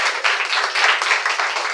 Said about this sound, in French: Alors, ça s'applaudit.